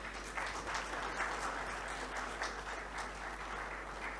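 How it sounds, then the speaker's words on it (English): An audience in a main hall at a conference session applauding award recipients collecting shields, a steady wash of clapping held at moderate, slightly distant level throughout. "Please have a round of applause for them."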